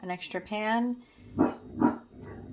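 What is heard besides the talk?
dog barking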